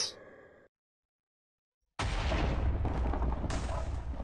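A gunshot in the Minecraft video game: a loud, dense burst of noise strikes after a short silence and runs for about two seconds, with a second sharp hit near its end.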